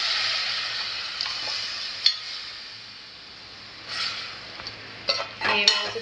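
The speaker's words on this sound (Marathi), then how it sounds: "मटण ऍड करूया।" Mutton pieces hit hot masala in a pan, raising a steady soft sizzle with occasional scraping stirs and light clinks of a utensil, louder bursts near the end.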